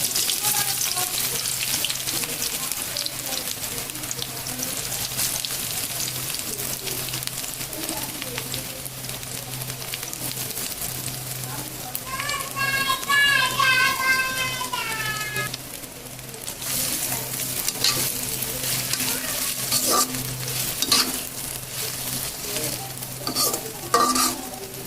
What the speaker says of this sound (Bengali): প্রথমে বেরেস্তা করে নেব, এর জন্য পেঁয়াজ কুচি দিয়ে দিলাম।